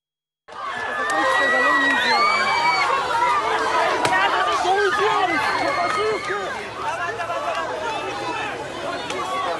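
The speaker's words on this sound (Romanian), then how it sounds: "Manifestanții au scandat, au format lanțuri umane și au aplaudat." Protesters in Belarus chant in a dense, continuous crowd roar with shouting voices and applause, loud and sustained throughout.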